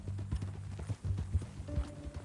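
Horse hooves clip-clopping in Red Dead Redemption 2, a quick rhythmic run of close, moderately loud hoof strikes with no talk.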